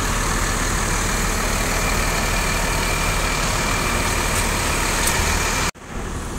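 A heavy diesel bus engine idles with a steady, loud rumble and hiss, then cuts off abruptly near the end, leaving a quieter hum.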